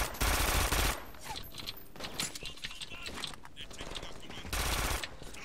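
Automatic gunfire from a gun in the shooter game Brink, two loud sustained bursts at the start and near the end with scattered shots and combat noise between them, and a voice faintly mixed in.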